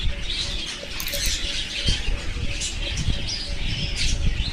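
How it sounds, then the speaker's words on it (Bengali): Golden finches in a bird farm aviary chirp and flutter, with bursts of wing flapping and busy high twittering from many birds close by, under a constant background hiss. "এখানে কিছু ফিন্স পাখি রাখা আছে, গোল্ডেন ফিন্স"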